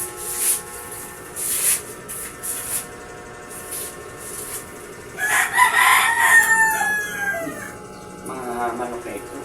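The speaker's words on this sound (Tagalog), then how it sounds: "Manok na ito." A rooster crows loudly nearby in a long, strained call, mixed with hissing spray bursts and clucking, while a person talks intermittently.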